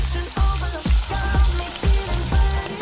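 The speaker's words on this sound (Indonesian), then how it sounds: "Lanjut kita bakar ayamnya." Chicken pieces brushed with red grilling spice paste sizzle loudly on a hot grill, with repeated bursts of crackling as the paste hits the heat.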